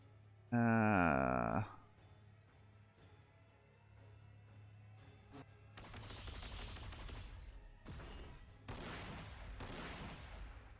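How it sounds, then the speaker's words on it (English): Gatling cannon fire in the Warhammer 40,000 Sanctus Reach video game comes as several loud, dense bursts of rapid gunfire, mixed with a short electronic tone and game sound effects. "His old Gatling cannon."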